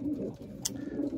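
Homing pigeons coo in their loft, soft low throaty murmurs repeating under a steady background, with one brief sharper noise in the middle.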